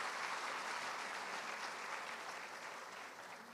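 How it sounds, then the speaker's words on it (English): Warm, dense applause from an audience following a song performance, a thick continuous wash of clapping that eases slightly in loudness toward the end. "Let's have another round of applause for them."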